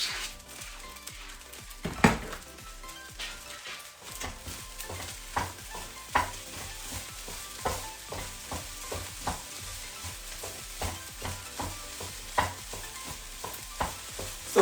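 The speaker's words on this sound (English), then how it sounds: "After we put it in pineapple, stir a little bit, about a minute" Pineapple is stirred into fried rice in a pan: a quiet sizzle under rhythmic spatula scrapes and taps against the metal, close by, repeating at an even pace without any talking.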